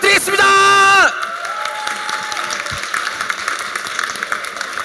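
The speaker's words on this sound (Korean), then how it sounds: "뜨거운 박수 부탁드리겠습니다." An audience at a corporate company event welcoming a speaker with applause and cheers, following a loud opening musical fanfare; the clapping runs on underneath after the music stops.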